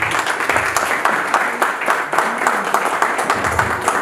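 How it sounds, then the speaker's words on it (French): Audience at a formal ceremony applauding after a speech, with dense, even clapping that fills the whole stretch and some voices mixed in. "Encore un peu d'applaudissements pour notre fédéral"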